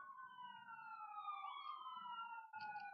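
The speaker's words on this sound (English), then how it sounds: "2 ambulances just went by." Ambulance sirens passing by on a busy night in Lebanon, a steady wailing tone sweeping slowly in pitch, distant and faint, heard alone with no talking.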